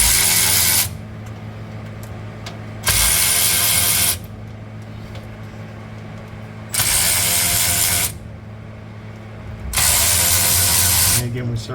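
A ratchet loosens differential cover bolts on a Dodge D-150 truck in four loud, rapid clicking bursts separated by pauses, while someone talks throughout.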